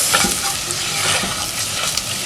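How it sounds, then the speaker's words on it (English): A beef stock cube crushed into a pot with spices for turmeric rice, heard as a close, continuous frying sizzle with scraping and stirring scuffs throughout, loud and steady with no voices. "Crush the beef stock cube in the pot."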